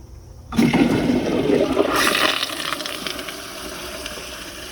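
An American Standard Cadet pressure-assist toilet flushes with a sudden loud whoosh that stays forceful for a couple of seconds, then eases into a steady rushing refill close by.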